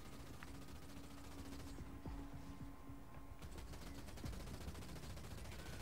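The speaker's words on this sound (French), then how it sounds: "Les troupes au sol me tirent dessus" Faint, rapid gunfire from ground troops in Halo Wars 2, scattered bursts and single shots crackling over a dense game soundscape, with no talking.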